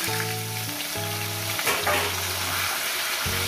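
Taro potatoes sizzle in hot oil with five-spice tempering, a dense, close frying hiss that holds steady throughout. Low tonal hum lines drop out briefly and then return.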